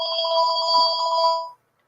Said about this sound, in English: somebody's ringing.